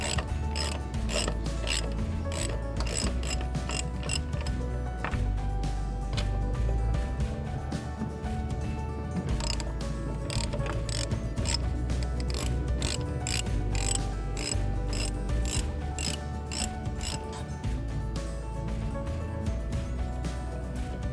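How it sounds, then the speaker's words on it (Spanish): A hand ratchet with a 12 mm socket loosens intake manifold bolts on a 2000 Montero Sport engine, giving a steady, fast, close clicking that runs on with only brief pauses and no talking. "seguimos quitándolo o aflojando los tornillos con el dado 12 para poder ya desmontar lo que viene siendo el múltiple de admisión"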